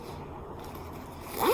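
A small floral purse being zipped, a short close zipper rasp that swells loudest near the end after a quiet lead-in.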